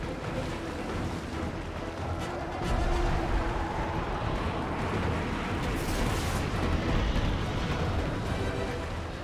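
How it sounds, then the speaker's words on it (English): A sustained roar of missile launches and rumbling explosions from Call of Duty: Modern Warfare 3 swells at about three seconds and holds loud and dense throughout, with a faint voice buried in the din. "missiles armed and launching"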